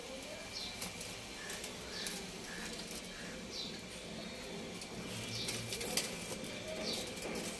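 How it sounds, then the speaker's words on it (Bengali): Pigeons coo softly in a loft in an old pigeon-keeping household, with faint repeated calls and a wing flutter or two over a steady background hum. "এই দেখুন একটা পায়রা"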